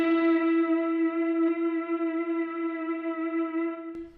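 An electric guitar run through a reverb pedal on an alt-rock and shoegaze pedalboard, the notes held and smeared into a sustained harmonic pad, steady and loud, ending with a brief pluck near the close.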